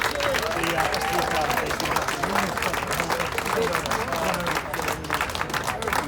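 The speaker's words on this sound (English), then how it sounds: "Round of applause, please." Sustained applause from an audience at a community gathering in Brixton, London, holding steady throughout, with voices and cheering mixed into the dense clapping.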